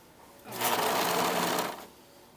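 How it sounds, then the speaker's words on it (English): A serger stitching a blouse's seam allowances together runs in one steady, fairly close burst of about a second and a half, starting and stopping abruptly, with no talking. "You're going to serge seam allowances together."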